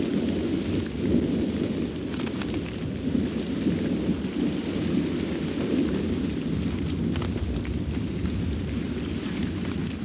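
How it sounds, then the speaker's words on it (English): A fierce thunderstorm rolls on with a continuous low rumble of thunder and heavy, steady rain for the whole stretch, with no voices. "Lions have an edge when stalking prey distracted by the chaos of a storm."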